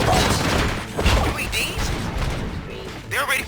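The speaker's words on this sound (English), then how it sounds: "Gunshots? What's going on?" Gunfire in the video game RoboCop: Rogue City, a dense burst of shots and booming impacts with crashing debris, loud and continuous over game music and effects.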